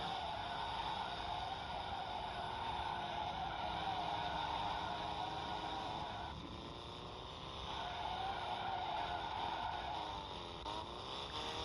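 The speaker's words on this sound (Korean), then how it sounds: "잘한 드리프트" Car drifting in a 3D driving video game, its engine droning steadily with long sustained tire squeals rising and falling across the whole stretch, loud and continuous.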